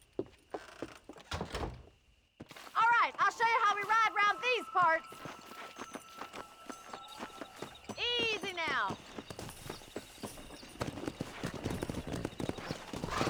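Horse hooves clip-clop rhythmically in the video game Red Dead Redemption, with a horse neighing in bursts and then galloping again, all set against ambient noise.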